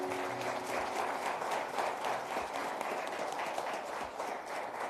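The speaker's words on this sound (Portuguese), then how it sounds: "Uma salva de palmas para Jesus." A church congregation applauds at the close of a Sunday evening service: thick, sustained clapping from many hands fills the room evenly throughout.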